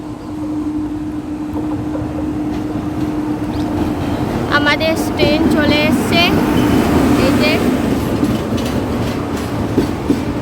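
A steady train rumble hums at a station, with screeching wheel squeals rising midway and background voices murmuring.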